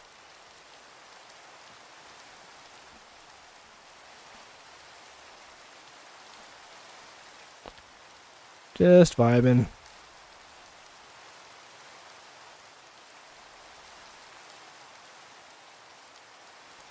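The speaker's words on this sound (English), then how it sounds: "Nice chill rainy day." Steady rain in the Minecraft video game, a soft, even hiss that runs through the whole stretch, with a short spoken phrase briefly rising above it partway through.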